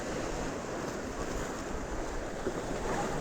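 Ocean waves break on a shore in a continuous soft wash of surf, faint and steady with wind noise across the microphone.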